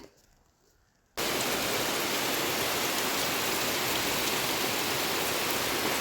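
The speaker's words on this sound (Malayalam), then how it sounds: "ഇന്ന് രാവിലെ തന്നെ നല്ല മഴയാണ് കേട്ടോ ഇളം കാറ്റോട് കൂടിയിട്ടുള്ള മഴയും" Morning rain with a light wind in a village setting, starting abruptly after a brief quiet moment and then a dense, steady, close hiss of rainfall continuing without any voices.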